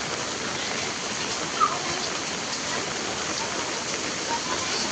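Night rain falling steadily, a continuous close hiss of drops on the ground with a faint tap or two, no voices.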